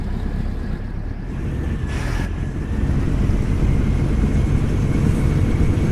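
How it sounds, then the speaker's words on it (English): A modded truck engine in American Truck Simulator, pulling a tandem trailer, drones as a steady, loud low rumble that swells slightly stronger partway through, with no voices. "I do like the sound of the engine"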